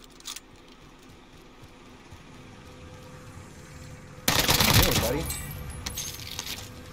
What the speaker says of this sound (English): Hey, at least I'm still shooting.